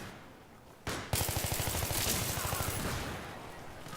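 Rapid automatic gunfire in Battlefield 3, a sharp opening shot followed by a fast, continuous burst of rattling rounds, loud and close.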